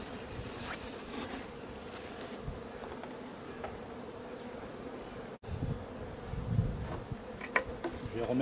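Honey bees buzz densely around an open hive during a summer honey harvest, a steady close drone with brief louder passes and handling knocks.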